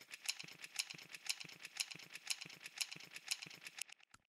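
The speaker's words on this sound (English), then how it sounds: "So what this is it's a recording of me jingling some keys together" Keys jingled together in a steady rhythm of bright metallic shakes, roughly two per second, close up with no voices.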